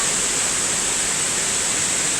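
A waterfall at Ban Ang Patrang roars as a loud, constant broadband rush of falling water, steady and close throughout with no voices.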